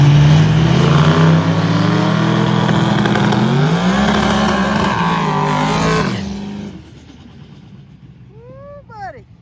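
Diesel trucks, a Sterling Diesel and the Dale truck, rev hard in a head-to-head drag race, their loud engines roaring and climbing in pitch together before cutting off abruptly, leaving faint crowd noise and a few distant whoops.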